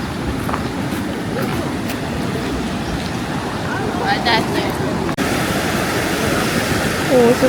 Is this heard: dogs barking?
no